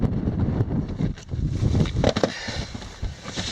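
Wind roars across a microphone on the summit of Golden Gate Mountain in Tucson Mountain Park, a loud, continuous low rumble with gusty surges and a few brief knocks.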